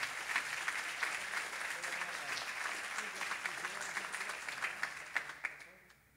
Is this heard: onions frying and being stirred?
no